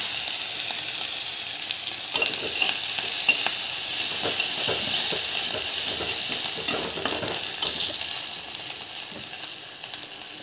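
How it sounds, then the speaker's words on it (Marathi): Mustard seeds, curry leaves and green chili sizzling in hot oil, a loud close hiss with rapid crackling pops and occasional spatula clatter, steady throughout with no talk. "तेलामध्ये आता आपण थोडीशी मोहरी टाकायची आहे आणि ही हिरवी मिरची टाकायची"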